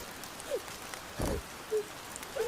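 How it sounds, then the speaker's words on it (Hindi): Heavy rain pours down on a stormy night as a steady, soft wash of noise, with a few louder thumps and faint scattered chirps rising above it. "इधर बारिश अब अपने चरम पर थी।"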